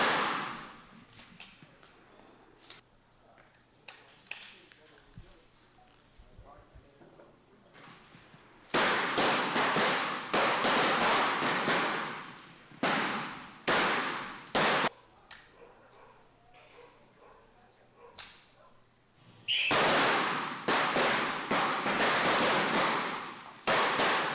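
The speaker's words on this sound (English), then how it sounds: "The eerie silence now filled with the sound of the rifles." Rifle shots at a shooting competition ring out as sharp, loud cracks in irregular bursts, some clustered and others spaced apart, over a quiet hum between volleys.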